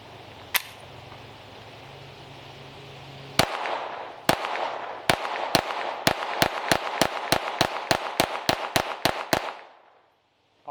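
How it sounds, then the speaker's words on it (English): A Taurus TX22 .22LR pistol fires a single shot, pauses, then fires a string of about sixteen loud sharp cracks that quicken toward a rapid steady cadence before stopping. "I'm gonna increase my rate of fire as I go"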